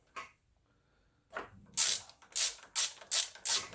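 Large Torx screws being unscrewed from a bike handle with a ratcheting driver: a short click, a pause, then five rapid bursts of ratchet clicking in a steady rhythm, close and fairly loud.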